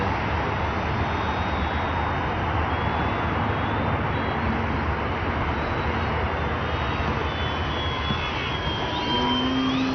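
A Dynam Sbach 342 four-channel RC aerobatic plane at full throttle gives a loud, steady, high-pitched electric motor and propeller whine that holds constant for ten seconds under open-air wind noise, with no talking.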